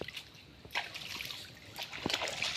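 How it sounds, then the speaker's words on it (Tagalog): Water trickles and splashes softly at the shore, small irregular dribbles and laps in a quiet outdoor setting. "nandito na yung tubig sa gilid"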